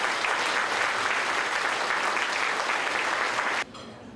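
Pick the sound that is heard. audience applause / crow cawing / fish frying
audience applause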